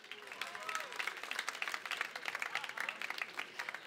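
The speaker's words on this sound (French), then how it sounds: "Vous pouvez vous applaudir." Applause from an audience at a high-school literary prize event at a book festival, fairly faint and steady hand clapping with a murmur of crowd and some voices mixed in.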